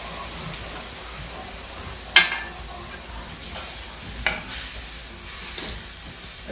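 Turkey pot pie filling sizzles in a pan with a steady hiss while a spoon stirs it, scraping a few times against the pan.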